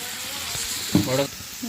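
Capsicum curry sizzling and frying in a pan with chili powder stirred in, a steady close hiss with a brief louder burst, while a voice talks over it.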